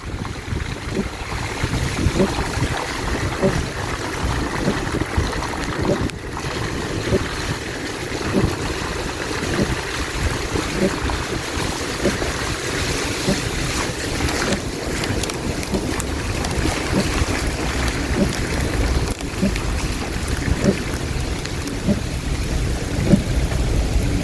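Dense, steady roar of heavy rain from Storm Eta with gusty wind rumble throughout, in southside St. Elizabeth, Jamaica, continuous and loud with no voices.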